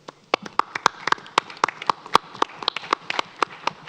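Sparse applause at a school board of education meeting, a small group clapping unevenly with distinct individual claps over a few seconds.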